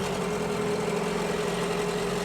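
A boat's outboard engine idles at its lowest revs, a steady low mechanical hum with an even throb and no voices.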